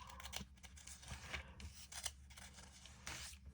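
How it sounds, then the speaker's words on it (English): Thin Bible pages being turned one after another near the back of an ESV edition with creeds and confessions, giving soft papery rustles and crisp flicks in irregular bursts, close and quiet with no talking. "it gets a little bit harder to grip the paper and turn it"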